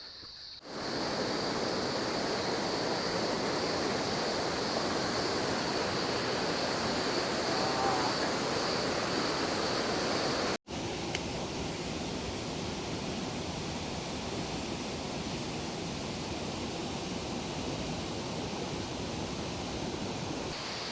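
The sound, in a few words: Eurobin Falls waterfall at Mount Buffalo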